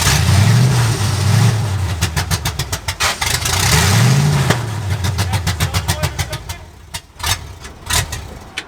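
A 1965 Ford F250 engine turns over and runs while held in the crank position, then falters and stumbles once the key is released, ending in uneven sputters and gaps; loud, close and without talk.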